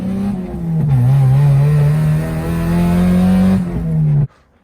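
A Mazda Miata engine runs with a steady low rumble for several seconds, then cuts off abruptly into near silence.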